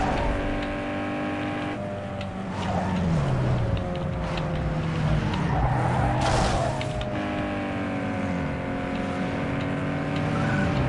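Tuned race cars, including a Tofaş, launch off the line at the start of a street race in Need for Speed Underground 2, engines revving hard and rising through gears with tire squeal, continuous and loud.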